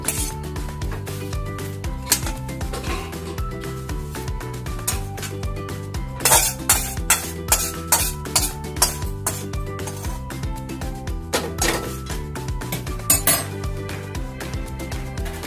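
Fried food being scraped out of a kadai into a bowl at home, a busy run of metallic clinks and scrapes of a spoon on the pan and bowl, loud and close, with dense bursts of clatter throughout.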